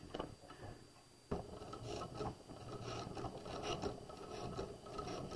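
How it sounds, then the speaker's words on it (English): Sewing machine back stitching a lapped zipper, a quiet steady mechanical whir with a fast ticking needle rhythm running continuously after a brief pause. "And I'm going to back stitch."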